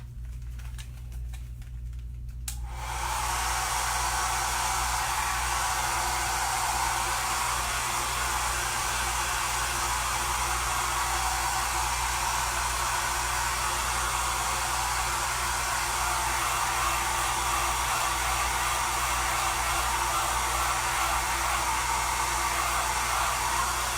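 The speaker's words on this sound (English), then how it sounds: "I'm just gonna use my hair dryer for a second." A hair dryer switches on after a couple of seconds of quiet and then blows steadily and loudly without a break, used while painting a patriotic mason jar door hanger.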